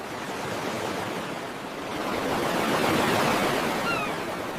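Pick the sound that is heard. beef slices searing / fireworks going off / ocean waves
ocean waves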